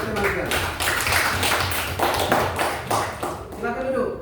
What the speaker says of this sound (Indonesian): Kasih aplaus untuk teman-teman sekalian